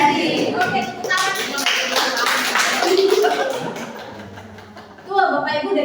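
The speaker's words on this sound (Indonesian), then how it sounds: "Oke, tepuk tangan." A group of school guidance counselors at a training session claps together, producing a fairly loud run of hand claps mixed with voices and light laughter, tapering briefly before a sharper burst near the end.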